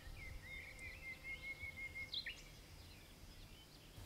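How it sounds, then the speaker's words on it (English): A nightingale sings at a distance outdoors in rural Spain, thin whistled phrases and a sustained trilling line rising faintly over a low rumble of wind and ambient noise. "you can hear a nightingale."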